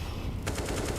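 Rapid automatic gunfire in a Counter-Strike match at ESL Pro League, a rhythmic burst of shots that starts abruptly partway through over a constant background din.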